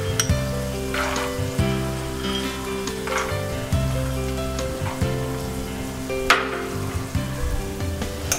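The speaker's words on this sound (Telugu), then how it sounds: "కొన్ని పల్లీలు వేసుకోవాలి." Peanuts fry in hot oil, a constant close sizzle with repeated stirring scrapes and clatter from the pan.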